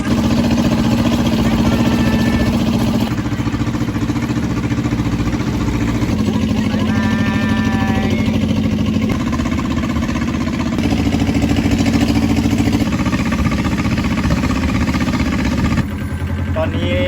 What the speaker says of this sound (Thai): ตอนนี้เรือกลับเข้าในคลองเหมือนเดิมแล้วครับ